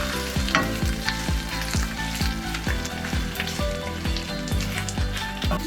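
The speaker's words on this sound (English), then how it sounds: "that sound is what you want to feel when you're cooking the fat of the pork" Pork fat for al pastor sizzling hard in a hot pan while being stirred, a dense continuous crackle and spatter with repeated scraping strokes, close and loud.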